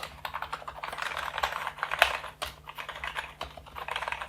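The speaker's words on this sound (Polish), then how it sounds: "No klawiatura jest dość cicha. Zróbmy sobie mały test." Rapid, soft key presses on a quiet Genesis Rhod 350 RGB membrane keyboard, a steady patter of muted clicks with a few slightly louder taps, close up and alone.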